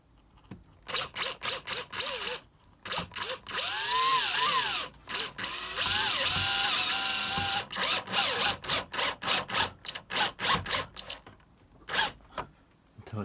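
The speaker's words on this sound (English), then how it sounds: "I'm using little 1/2" wood screws, and all I'm going to do is drive one in right near the end" Power drill driving small half-inch wood screws into a OO gauge model railway baseboard: several short, close, loud bursts of whirring, a longer sustained run in the middle, then rapid stop-start trigger pulses.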